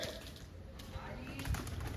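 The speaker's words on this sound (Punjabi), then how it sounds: "ਉਹ ਕਬੂਤਰ ਨਿਕਲ ਗਏ ਬਾਹਰ" Pigeons coo softly in a brief low murmur beneath a voice and steady background noise, near their loft.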